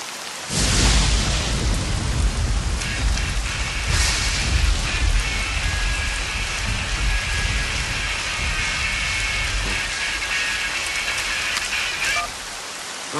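Heavy rain pours steadily on a surface for the whole stretch, loud and close, with low rumbles of thunder rolling underneath and no voices.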